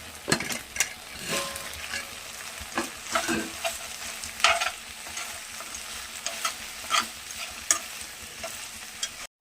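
Fried paneer pieces get stirred into Manchurian sauce in a pan, with loud scraping stir strokes at an uneven rhythm over a continuous frying sizzle, close up and without speech.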